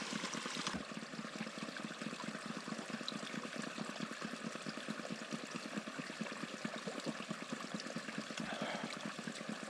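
Small stream of running water trickling steadily inside a grotto in the Mojave, a close, continuous burbling wash with no voices.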